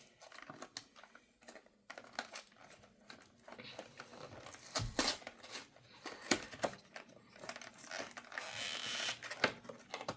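A Pokémon card booster pack from a Grass-type EX battle deck is ripped open, giving sharp crinkling, crackling foil tears and rustles in irregular bursts. Close and fairly quiet, with louder crinkles toward the end.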